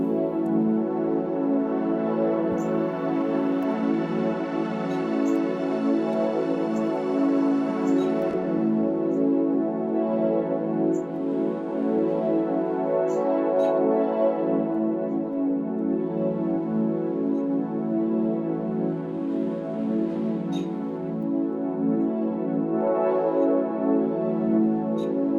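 An ambient synth pad built in Vital with a crystallizer and heavy reverb plays as a soft, wide, sustained wash of chords that swells slowly, with faint sparkling high tones drifting over it and no speech.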